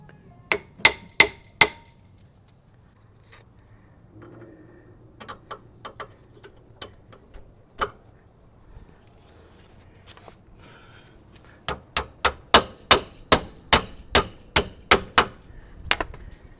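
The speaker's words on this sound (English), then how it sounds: "Do the hammer." Sharp metallic hammer blows ring out while installing a long arm suspension kit on a Jeep XJ, a few scattered strikes early, then a steady run of about a dozen evenly spaced hits, close and loud.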